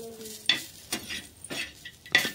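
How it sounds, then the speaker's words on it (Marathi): Grated coconut fries in a pan while a spatula scrapes and stirs it, giving several distinct scraping strokes over a soft sizzle, close and fairly quiet. "घेऊ आता खोबरं मस्त छान असं फ्राय करून"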